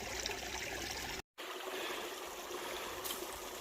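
Water streams steadily through a gold prospecting sluice box outdoors on a claim, a continuous close rushing trickle with one brief dropout partway through.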